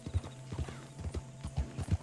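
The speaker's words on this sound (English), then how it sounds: "we're going to take it a little bit easy with this horse" Horse hooves in Red Dead Online, a steady walking clip-clop of close, distinct hoof strikes in an even rhythm.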